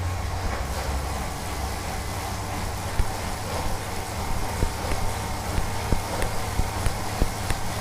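A Tacx indoor turbo trainer whirs steadily under pedaling at moderate power, giving a continuous low hum and rolling drone with faint rhythmic clicks.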